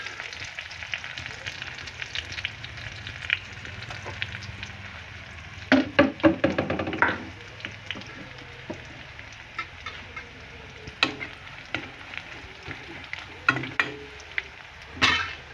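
Sliced onions sizzle in hot oil in a pan with whole cumin seeds, a steady close frying hiss punctuated by sharp clatters of stirring, with a few faint bird clucks in the background.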